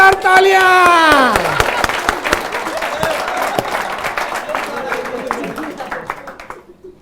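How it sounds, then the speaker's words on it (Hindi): An audience at a first aid training session bursts into loud clapping after a demonstration, starting under a raised voice and then tapering off gradually to silence. "जोरदार तालियां"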